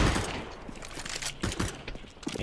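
Rapid AK rifle fire in a video game comes in dense bursts over a busy background of other game noise, close and loud throughout.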